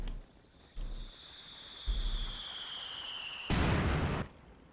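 US mortar shells land in the World War II strategy game Company of Heroes 2, with three separate booming impacts, the last loudest, over a thin high whine.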